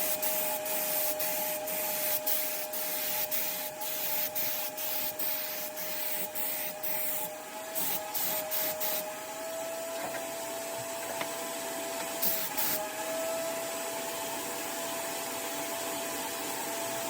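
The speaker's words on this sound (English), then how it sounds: "I don't have a very good spraying technique" A spray gun hisses steadily and continuously, spraying clear coat onto a car fender, with a few brief pauses and faint clicks, close by and fairly loud.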